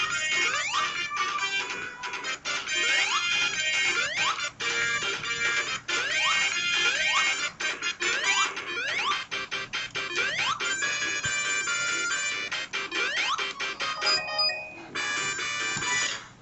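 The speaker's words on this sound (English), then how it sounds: "Shut up, phone!" Electronic chiptune-style ringing tone from a cartoonish phone in the Sonic 2 Master Edition game, bright repeating chirps and warbles sounding continuously and loudly for the whole stretch without pause.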